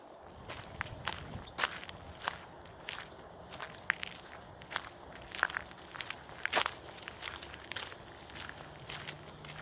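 Footsteps crunch along an outdoor walking path at an even, unhurried pace, faint and fairly close, with soft scuffs and crackles between steps and no one talking.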